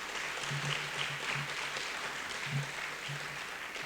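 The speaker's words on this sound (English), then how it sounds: "Let's give UTA a round of applause before we get far." Audience at a school district event applauds the University of Texas at Arlington, a steady moderate round of clapping with a faint low hum underneath.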